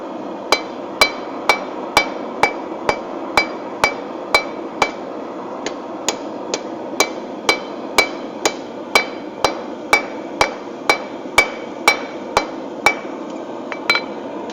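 Hammer striking hot steel on an anvil while forging a leaf keychain, sharp ringing blows at a steady rhythm about every half second with a brief pause midway, close and loud over a low background hum.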